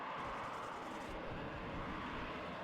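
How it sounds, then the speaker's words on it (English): A Harrier jet flies in, in the war game WARNO, as a dense roaring engine rumble that stays steady through a short stretch and sounds distant and fairly faint. "Harrier HE2 coming in."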